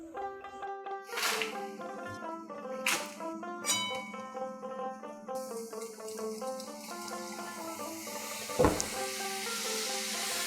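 Faint, steady sizzling of nimki pastries deep-frying in hot oil over high heat as they are lifted out, heard softly under background music.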